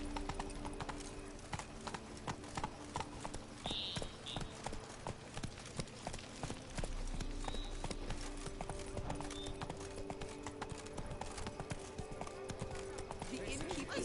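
Roach the horse gallops in The Witcher 3: Wild Hunt, hooves clip-clopping in a quick, steady rhythm throughout, close and clear, with a voice audible in the background.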